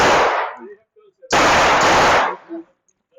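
Rifle fire with a Surefire light mounted: two loud bursts of rapid automatic shots close by, the second longer, separated by a short pause and followed by faint echoes.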